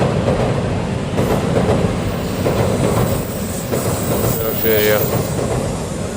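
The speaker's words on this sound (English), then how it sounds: "Sometimes you can see two Shinkansen coming from two opposite sides." A Shinkansen bullet train rumbles past in Tokyo with rolling rail clatter and a rising whine, heard outdoors with a brief spoken word partway through.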